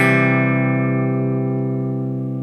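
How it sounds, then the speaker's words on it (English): A single musical triad rings out with C as the lowest note, struck once and left to decay slowly, bright at the attack and fading over a couple of seconds, alone without talk. "Now I'm going to play the triad."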